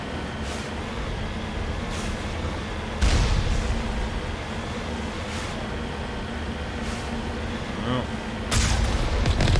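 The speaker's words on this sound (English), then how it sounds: "Or are they shooting off like flak cannons or something?" Dull booming flak cannon blasts in Mass Effect, a few heavy thumps spaced apart over a constant rumbling background, with a brief exclamation from a voice.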